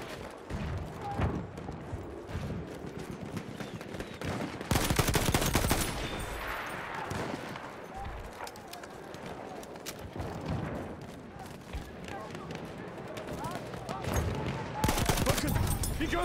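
Battlefield 1 multiplayer battle with machine gun fire and scattered gunshots amid constant battlefield rumble, with louder bursts rising twice, all in a dense, noisy mix.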